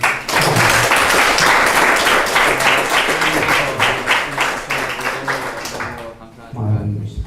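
A church congregation at a Christian life seminar claps loudly together, a sustained burst of applause that thins toward the end while voices call out over it.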